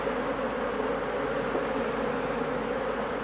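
Honeybees foraging near beehives in fine weather, a dense steady buzzing hum of many insects close by with no voices.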